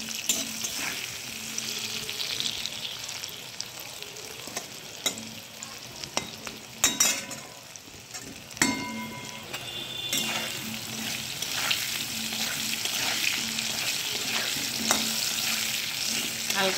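Potatoes fry in a pan with salt and turmeric while being stirred, producing a continuous sizzle with a few sharp metallic scrapes and clatters of the spoon partway through.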